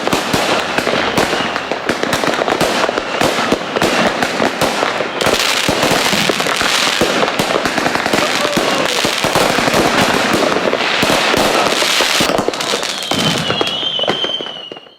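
Dense, rapid firecrackers bursting for Diwali: a loud, continuous crackle of overlapping pops and bangs that keeps going without a break, then tails off at the end with a thin whistling shriek.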